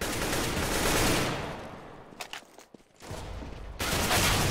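Gunfire in the video game Counter-Strike: Global Offensive: loud, sustained bursts of automatic fire, a brief lull with a few scattered shots and clicks, then heavy firing starts again.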